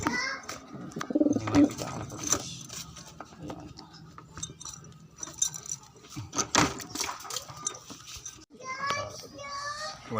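Young pigeons coo softly in a roost, with short breathy calls repeating in bursts, along with faint clinks and a distant voice.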